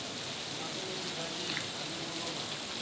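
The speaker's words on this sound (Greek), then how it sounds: "Ρίχνει πολύ βροχή" Heavy rain falls steadily at a roadside stop during a motorcycle trip toward Olympus, a dense, even hiss that fills the whole clip without any break.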